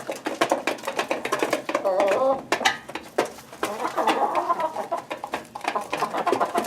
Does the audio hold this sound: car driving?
no